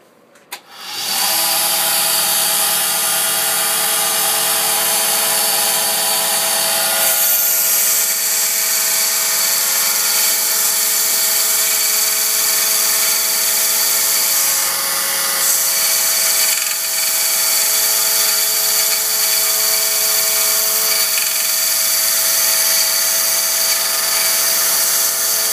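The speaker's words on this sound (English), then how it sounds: "Go to the bench grinder here." A bench grinder runs steadily and loudly, grinding down a metal tuning tine from a toy piano to lower its pitch. A sustained, even whine with bright grinding noise begins after a brief start and continues alone throughout.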